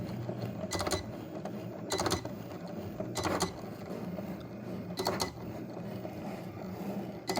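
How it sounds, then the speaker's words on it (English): A Cricut cutting machine cuts vinyl on its mat. Its carriage makes a low mechanical whir, broken by sharp whirring bursts that repeat every second or so, close and moderately quiet. "You basically just feed this through the Cricut machine, let it do its work"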